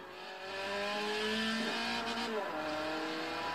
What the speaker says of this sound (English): If you can hear that, it actually sounds like a proper banger.